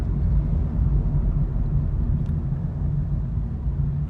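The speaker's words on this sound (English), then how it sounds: "now I'm getting stuck behind the garbage truck" A garbage truck rumbles steadily ahead on a narrow one-lane road, its low, continuous engine drone filling the scene from start to finish without pause.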